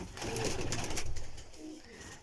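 Pigeons in a loft coo softly in low, throaty calls, with rustling and a faint chirp mixed in, fairly close and continuous over the short stretch.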